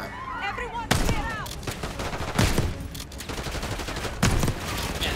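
A shotgun fires repeatedly in Call of Duty: Black Ops 6, with several heavy blasts spaced about a second or more apart over constant battle noise and scattered gunfire, and a voice briefly heard near the start.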